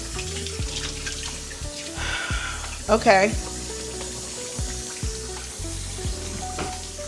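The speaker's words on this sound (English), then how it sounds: "Let me let that water run hot so I can get my dishwater together." A kitchen tap runs into a sink to fill hot dishwater, a steady hiss of flowing water with clinks and knocks on top and a brief spoken word.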